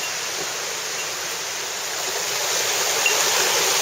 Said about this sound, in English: Following along the stream here.